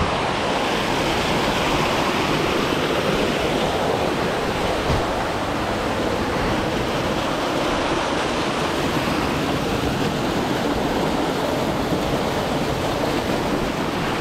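Coastal waterfall pouring down near the sea: a dense, steady roar of falling water, loud and close, continuous throughout with no speech.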